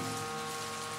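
Steady cartoon rain sound effect, a dense even hiss of drops falling on a surface, continuous and fairly close for about a second with no voices.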